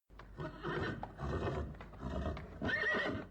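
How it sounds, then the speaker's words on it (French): Horses trampling and whinnying in a dense, steady clatter of hooves with repeated neighs, a crowded outdoor commotion that stays loud throughout with no voices. "malgré le piétinement des chevaux,"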